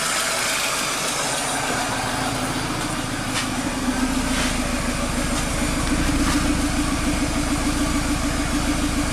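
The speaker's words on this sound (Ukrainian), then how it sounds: "Ось такий вихлоп." A VAZ 2115 car engine idles steadily up close, its exhaust giving a low, even rumble that grows slightly heavier partway through.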